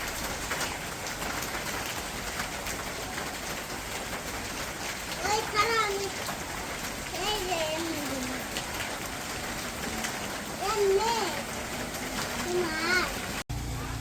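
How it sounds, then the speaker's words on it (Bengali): Rain pours down outside in a village as a steady hiss of drops and splatter throughout, while adults and someone talk nearby over the downpour. "মুহূর্তের মধ্যে অন্ধকার করে বৃষ্টি নেমে গেল।"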